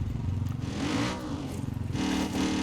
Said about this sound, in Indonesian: Yuk motor aja.